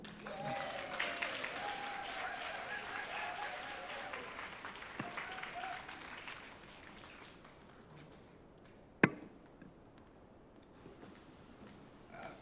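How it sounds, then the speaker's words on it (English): A crowded room at a social worker of the year awards ceremony breaks into sustained applause that fades out over several seconds. One sharp knock stands out near the end, and quiet room tone follows. "would you please give a massive round of applause to Councillor Peter Wolf"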